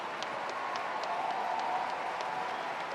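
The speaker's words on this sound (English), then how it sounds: "The crowd is trying to pump up Fernandez to stay in here on her serve" Tennis spectators at the 2025 US Open applaud and encourage a player on serve, a fairly faint, steady patter of clapping with a few sharper claps standing out.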